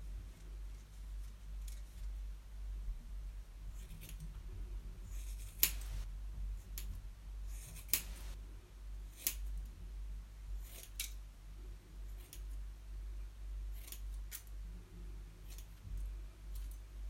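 Scissors snip through hair in scattered, crisp cuts, some in quick pairs, set against a quiet low hum.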